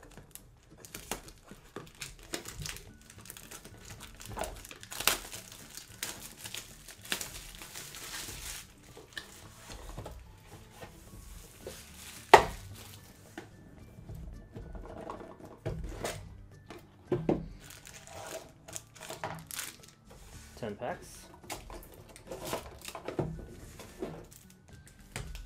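A Magic: The Gathering Aether Revolt bundle wrapper is torn open by finger, giving repeated crinkling and tearing rustles in uneven bursts, close and fairly quiet, with one sharp snap midway.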